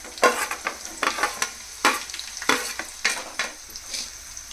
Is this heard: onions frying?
yes